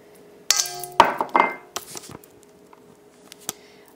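A spatula scrapes half a cup of butter into a KitchenAid mixer bowl, producing a few sharp clinks and knocks followed by softer scraping taps that fade out.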